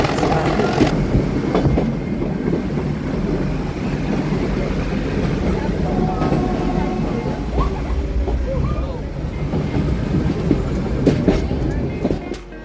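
Ooty mountain train rolling along its rails, a steady rumbling wash with faint clatter held at even loudness throughout, a few brief squeals and tonal whines rising near the end.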